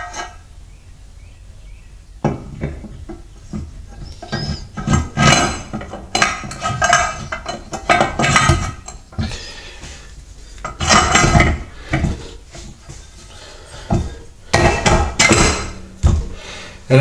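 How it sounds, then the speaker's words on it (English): An engine case half is lowered onto a motor with the cam fitted, giving repeated close, loud metallic clanks and scrapes in irregular bursts over a low background hum. "let's drop the case half on there."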